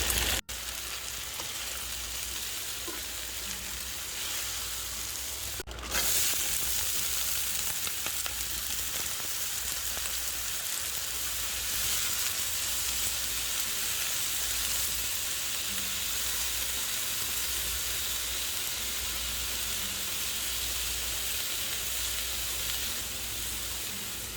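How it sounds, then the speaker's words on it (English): Vegetables stir-fry in a pan with Thai basil and meat, a steady, close hiss and sizzle that runs unbroken throughout, with a brief clatter early on and no talking. "dumping the vegetables into the can, and letting them get stir-fried a little bit"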